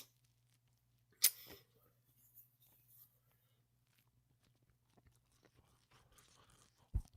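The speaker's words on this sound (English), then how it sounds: "Oh, chewing. So much fucking chewing." Crunchy chewing and biting of food during a dinner box eating challenge, close to the mic with sharp crunches and softer chewing over a steady low hum, no talk.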